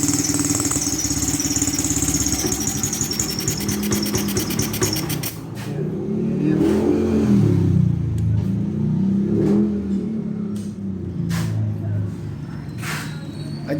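A Honda CB 125 motorcycle idles with a new carburetor being adjusted, its engine running steadily and then rising into uneven revs with rubbing and clicking handling noises close by, and voices faintly present.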